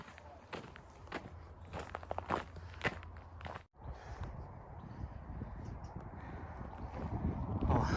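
Footsteps crunch steadily along a woodland path on Hartham Common, close and fairly quiet, with soft wind noise and a brief dip partway through.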